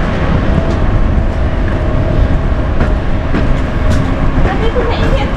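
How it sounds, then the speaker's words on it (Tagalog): A new cruise ship arrives at port, its deep low rumble and steady broadband engine noise filling the harbor continuously, with faint clanks and people talking nearby. "May bagong barkong parating guys."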